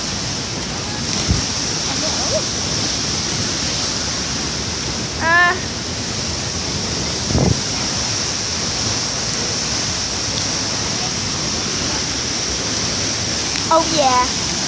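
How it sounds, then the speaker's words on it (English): Continuous roar of a waterfall on a mountaintop, a dense steady rush that fills the whole stretch, with a few brief chirps and soft voices faintly heard over it. "We have two waterfalls now."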